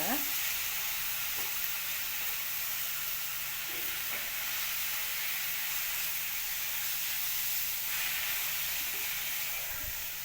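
Vegetable upma with fenugreek leaves being mixed in a hot pan, steady loud sizzling and frying hiss throughout with faint stirring scrapes, close up and continuous.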